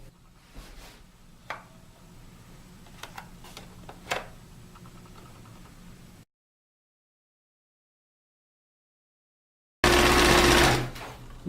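Sewing machine stitching along the edge of a sweater, heard in short bursts of close, steady rapid ticking, then a gap of silence before a louder run of continuous stitching.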